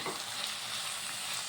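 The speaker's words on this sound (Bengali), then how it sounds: "কিছুটা কাশ্মীরি লঙ্কার গুঁড়ো দিয়ে ভালো করে মিশিয়ে নেব" Ground cumin, coriander, green chilli paste and Kashmiri chilli powder sizzle and are stirred in a pan for a small-potato curry with drumsticks, a continuous close hiss with soft scraping.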